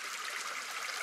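Flowing water in an ambience recording, a steady, even hiss of running water, continuous and fairly soft, with no voices.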